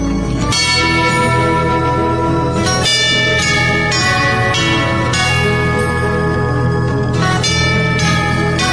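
Loud, resonant tubular bells ring out in a series of struck tones, each strike sustaining and overlapping into a rich, shimmering metallic chime.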